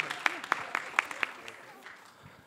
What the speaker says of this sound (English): Let's give Hai a big round of applause.